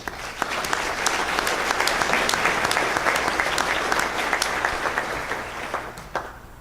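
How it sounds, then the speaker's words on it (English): An audience at a talent summit gives a sustained round of applause, dense steady clapping from many hands that fills the room at a constant loudness and tapers slightly at the end. "I think deserves a round of applause as well"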